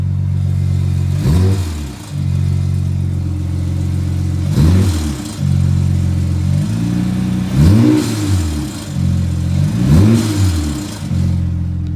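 A BMW 335 turbo engine revs in four loud, close bursts over a steady idle, with wastegate rattle on the blips as each rev climbs and falls back.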